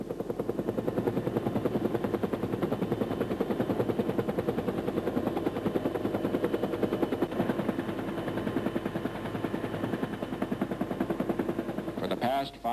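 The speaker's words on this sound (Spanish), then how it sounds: "los helicópteros estadounidenses trasladaban soldados vietnamitas a Camboya" US military helicopters carrying Vietnamese soldiers toward Cambodia, a steady rotor chop with rumbling engine noise and sharp bursts like gunfire mixed in, loud and continuous throughout.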